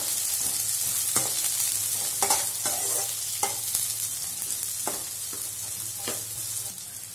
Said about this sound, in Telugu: సన్నగా తరిగిన క్యారెట్ ముక్కలు వేసుకొని మరో 1 నిమిషం పాటు వేసుకుందాము